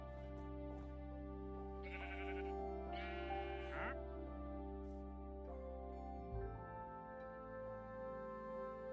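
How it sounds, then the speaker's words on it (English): Sheep bleating in Minecraft, a few short bleats over a sustained background tone from the game, fairly quiet, with no talking. "Sheep."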